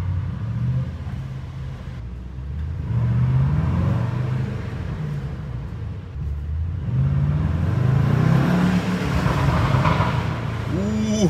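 A 900 hp Brabus GT900 Rocket engine rumbles and revs in an empty underground garage, a deep echoing idle swelling into a few strong rising revs, with a person talking over it.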